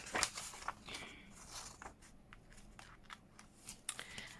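Paper for a handmade journal is cut with a few quiet, crisp snips and rustles, close up, with soft handling noises between cuts.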